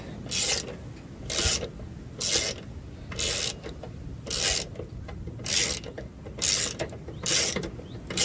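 A ratchet with a 13 mm deep socket working the shock bolts on a 1999 Ford Ranger, nine rhythmic bursts of close clicking at a steady pace.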